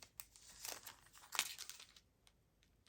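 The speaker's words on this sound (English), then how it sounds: "let's see if I can tear it open." Paper or plastic packaging being torn open by hand at close range, with crinkling rustles building to a sharp rip near the middle before fading into quieter handling sounds.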